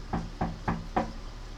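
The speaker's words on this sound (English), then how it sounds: "is this going to be people knocking at the door or scratching at it in different ways every single time?" Four evenly spaced knocks on a wooden door, moderately close and fairly soft, each a short hollow rap standing alone without any voices.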